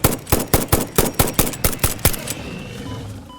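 Rifle fire in the video game Satisfactory during a hunt for creatures: nine sharp shots in a steady rapid rhythm, each ringing briefly, then a fading tail with faint game ambience and no talk.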